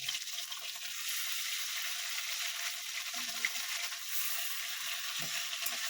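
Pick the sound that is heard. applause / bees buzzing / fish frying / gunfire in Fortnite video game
fish frying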